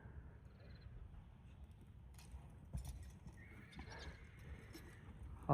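A four-year-old black European-bred horse led on a halter gives soft, steady hoof clip-clops at moderate distance over low background noise, with a brief neigh-like sound near the middle.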